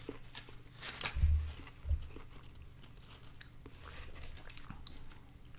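Close-up bites and soft, moist chewing of a McDonald's Happy Meal cheeseburger with pickles, starting with a couple of crunchy bites and settling into quiet, steady mastication.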